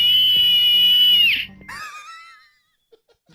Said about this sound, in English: Just attach the Style Screamer to your keys or purse, and when you feel threatened, simply pull the tassel.